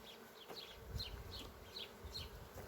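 Honeybees buzzing softly around an open Miniplus hive, a faint hum with overlapping wingbeat drones rising and fading, no voices.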